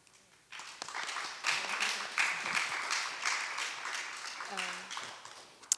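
Audience at a talk on Black feminist politics starts clapping after a quiet moment, a lively patter that builds and holds, with brief voices and cheers mixed in near the end.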